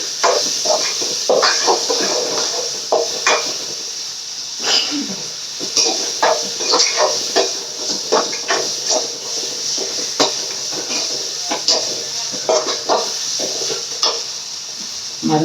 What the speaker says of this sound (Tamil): வெங்காயம் வதங்கிச்சு, தக்காளி போட்டுக்கலாம்.